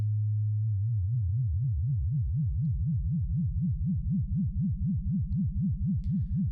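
A Xynthii synthesizer tone starts steady, then its pitch wobbles up and down in a fast, even pulse as a triangle LFO at 4 Hz modulates it. The sound is loud, close and alone throughout.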